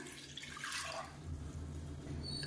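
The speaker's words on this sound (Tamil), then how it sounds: "இப்போ தேவையான அளவுக்கு தண்ணி சேர்த்துக்கலாம்" Water is poured into washed toor dal in a cooking pot, a short gushing pour that fades into a low, steady background hum.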